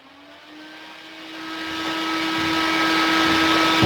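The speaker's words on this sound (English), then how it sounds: "the wind machine starts generating wind" A wind machine in an energy teaching demonstration powers up, its motor whir rising steadily in pitch and loudness into a sustained hum, close and continuous with no talking.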